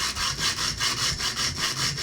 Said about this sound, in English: So what we're going to do is we're just going to sand this down